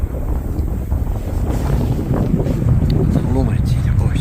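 Strong wind roars steadily across a frozen, snow-covered lake, buffeting the microphone in a continuous loud rumble with gusty swells.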